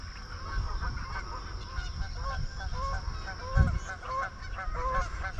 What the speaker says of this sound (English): Gonna have a goose fight.